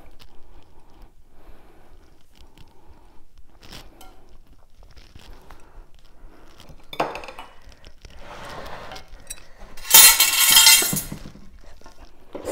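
A Pyrex glass cake mould clinks and knocks on a hard surface while vanilla cake batter is poured in, faint scattered taps, then a louder burst of scraping and clattering near the end.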